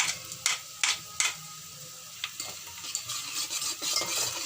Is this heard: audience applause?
no